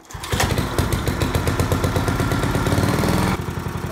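A small single-cylinder tiller engine, just repaired after a no-spark fault, fires up and runs with a loud, fast, steady chugging close by, then drops slightly in pitch near the end.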